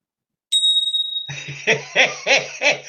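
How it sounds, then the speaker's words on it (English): A single bright chime sound effect rings out clean and sustained, then fades under several quick bursts of laughter or chuckling. "That's worth another chime, actually."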